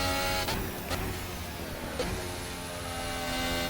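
Formula 1 car engine on a hot lap in a racing video game at the Chinese Grand Prix, a steady, loud high-revving whine with dense harmonics, briefly dipping as gears shift near the start and around two seconds.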